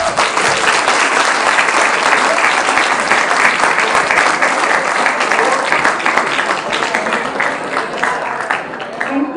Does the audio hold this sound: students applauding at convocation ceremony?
yes